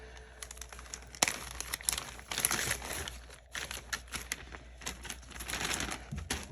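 A plastic bag crinkles and rustles as small parts from a Rolife DIY miniature kit go back into it. Bursts of close, sharp crackling come and go over several seconds.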